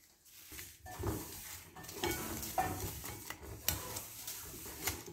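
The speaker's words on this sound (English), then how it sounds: "And mix well." Seasoned vegetables with salt and pepper being mixed in an outdoor village setting, giving a steady rustling and scraping of stirring with faint clinks, moderately close, with no talk.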